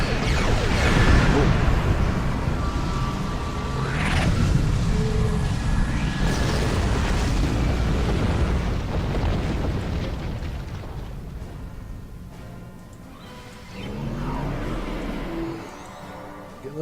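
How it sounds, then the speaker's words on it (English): Heavy torpedo explosions in the Star Trek Online game, with deep rumbling booms and whooshes that swell and fade across a long stretch, loud and close, with no voices over them. "Heavy torpedo there."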